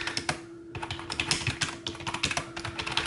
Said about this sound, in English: I could type very fast on this keyboard